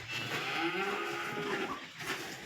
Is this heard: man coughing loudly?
no